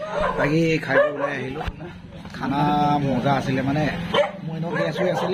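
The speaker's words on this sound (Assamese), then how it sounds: "কুকুৰকেইটা ইমান ভুকিছে" Dogs bark close by in short bursts, mixed in with continuous talk and laughter from people standing along a roadside.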